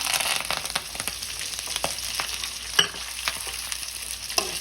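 Green chilies and curry leaves, along with onion, frying and being stirred in a pan: a steady close sizzle with scattered scrapes and pops, no voices.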